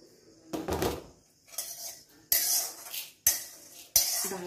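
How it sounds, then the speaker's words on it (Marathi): Roasted lentils for thalipeeth bhajani are scooped from a pan onto a plate with a metal spoon: several separate scraping, clinking strokes with quiet pauses between them, close and clear, no talking. "आता आपण हे परातीत काढून घेऊया."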